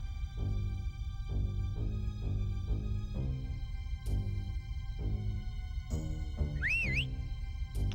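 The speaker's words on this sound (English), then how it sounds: "That whistle is a Minjo." A Minjo enemy whistles in Banjo-Tooie, a short rising and wavering tone near the end, heard over looping game background music with a steady rhythmic melody.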